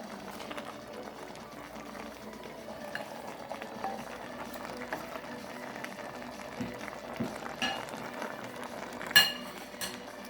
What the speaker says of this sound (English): I'm going to add my bell peppers.